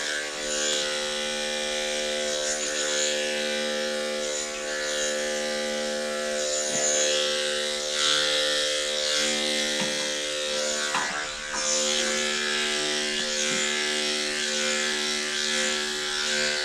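Electric dog clippers fitted with a new blade buzz continuously as they groom a standard poodle, a steady close hum with small shifts in pitch and texture as the blade moves through the coat.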